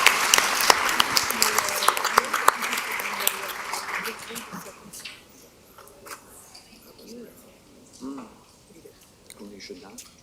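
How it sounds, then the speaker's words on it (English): A crowd claps steadily at a school board of education meeting, the applause gradually fading out midway, after which a few voices talk quietly nearby. "let's give her one more round of applause"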